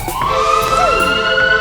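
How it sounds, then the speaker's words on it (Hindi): A police siren wails steadily with rising and falling tones, loud and close, with no other sounds around it. "बॉस, फिर से पुलिस के सायरन की आवाज आ रही है।"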